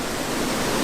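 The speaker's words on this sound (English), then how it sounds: "These are the Chinook Cascades." Water rushes at the Chinook Cascades waterfall, a loud, close, continuous roar with no other sounds over it.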